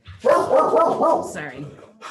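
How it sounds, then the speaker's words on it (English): A dog barks in the background, loud and repeated through a couple of seconds, partly under someone talking. "Sorry about the dog."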